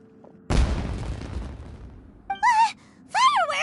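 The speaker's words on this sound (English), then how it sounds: "Was that an explosion?" A single heavy firework blast bursts in Genshin Impact, a loud booming explosion that decays over about a second, followed by two short voiced gasps or exclamations from a character.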